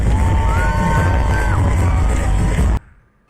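Festive crowd cheering with bursts of firecrackers at the Shivneri fort birth anniversary celebration, a loud dense roar with whistling tones that stops abruptly near the end.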